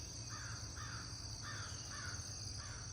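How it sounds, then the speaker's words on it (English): Five evenly spaced caws from crows sound at a distance over a steady background hum, each call short and regular across a property with a fenced acre of land. "birds are crazy today"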